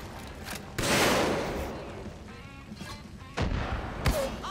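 Sniper fire in Far Cry 5 lands as a few sharp, booming shots spaced over a few seconds, one loud blast early followed by quieter reports, with faint background game sound between.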